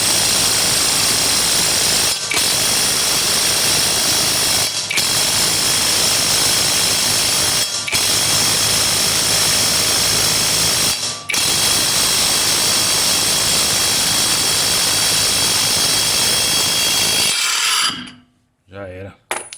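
Loud continuous whine of a pneumatic impact wrench loosening the wheel nuts on a Toyota Etios, a long unbroken run cut by four brief gaps before it stops near the end.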